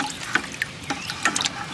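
Water trickling and dripping out of a hole in the bottom of a 4-gallon bucket set up as a drip system by a tree line in the early morning, with soft scattered drips and a faint steady trickle, quiet and close.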